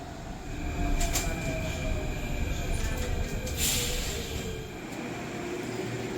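Loud rumbling of a subway train in motion in Athens, Greece, with a steady low roar and brief high-pitched squeals from the wheels.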